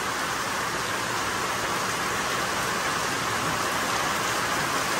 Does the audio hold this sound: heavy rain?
yes